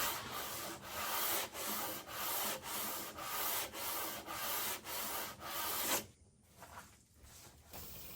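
Wood being sanded by hand with sandpaper in regular back-and-forth strokes, about ten even rasping passes close up, then the rhythm breaks off into quieter, scattered rubbing at the end.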